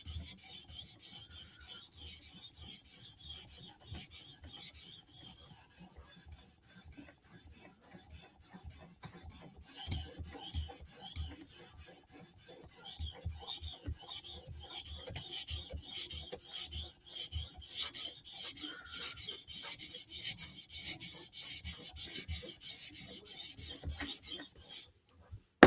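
Spyderco Slysz Bowie steel blade drawn across a whetstone in long, repeated rasping strokes, steady and close, with brief pauses between passes and no talking.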